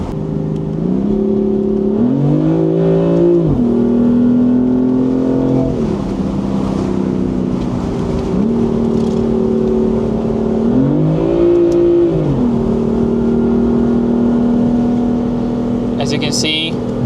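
A 2018 BMW M4 engine revs hard under acceleration, its loud, steady drone sweeping sharply up and down in pitch twice as the revs climb and fall, close up from inside the car.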